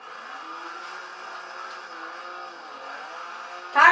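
Steady engine drone of a rally car in the racing game Dirt, a continuous mid-level hum held for several seconds before a sudden loud burst of noise at the very end.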